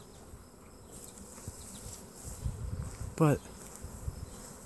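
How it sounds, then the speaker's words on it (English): A swarm of bees fills a yard with a faint, steady insect hum, crossed by a brief sharper buzz close by and a short spoken word. "there is a huge swarm of bees that just got in my yard."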